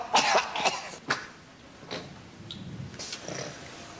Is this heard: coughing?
yes